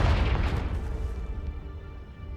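A Confringo fire spell bursts in Hogwarts Legacy, a loud low boom that rumbles and slowly fades over a couple of seconds, with no voices over it.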